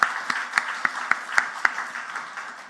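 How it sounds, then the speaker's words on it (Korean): Congregation at a Korean Sunday thanksgiving worship service claps together in an even, rhythmic beat, about eight distinct claps fading away in a reverberant church hall. "우리 하나님께 영광의 박수 한번 드리도록 하겠습니다"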